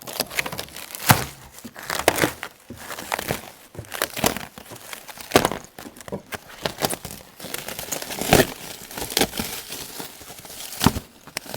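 Tape and plastic packaging are torn and crinkled off an American-style fridge in a warehouse, a run of irregular rustling, ripping and crackling bursts up close with no talk.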